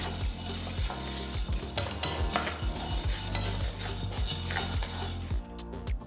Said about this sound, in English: Roast everything until golden and aromatic.